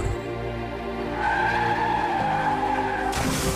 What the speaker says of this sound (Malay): kedengaran bunyi hentaman yang kuat di antara mereka